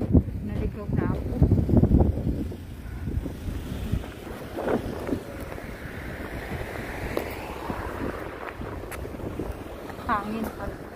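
Gusty wind buffets the microphone while someone walks outdoors on a cold, sunny day, giving a steady low roar with louder gusts and faint background sounds.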